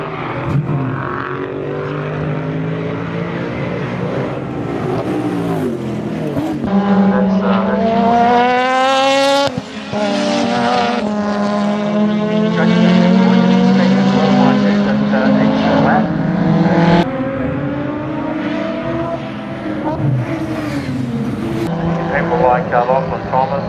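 An XU1 sports sedan race car engine at the Baskerville circuit during a race, its revs sweeping up and down through the gears in a loud, continuous run, with a commentator's voice over it.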